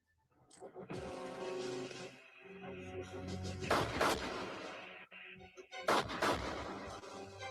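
Gunshots from the 1993 film Carnosaur, loud and booming: repeated blasts with broad bursts near four and six seconds, layered over a dense, continuous movie soundtrack.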